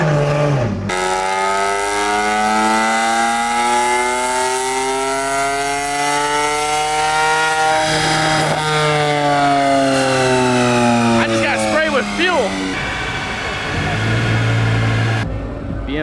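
A powerful car engine fitted with headers, intake and exhaust revs hard on a dynamometer at an American-versus-import dyno event, holding a loud, sustained roar that climbs and falls in pitch through repeated sweeps.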